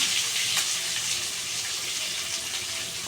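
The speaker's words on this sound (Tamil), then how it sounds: "கருவேப்பிலை பொரியும்" Curry leaves and chopped onions fry in hot oil, giving a steady close hiss and crackle that stays constant throughout, with no voices.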